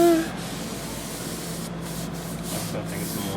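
Water sprays steadily onto old wooden window casing being stripped of oil-based putty and paint, a close, continuous hiss lasting a few seconds.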